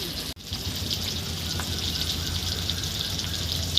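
Green banana pieces frying in a pan for a fish curry, giving a steady, close, bright sizzle that runs without pause after a brief opening clatter.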